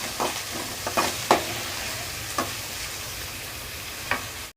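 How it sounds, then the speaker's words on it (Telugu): Onions, mustard seeds and curry leaves frying in a pan, a soft steady sizzle broken by several sharp scraping strokes of a spoon stirring, with no talking. "ఉల్లిపాయ బాగా వేగింది కదా,"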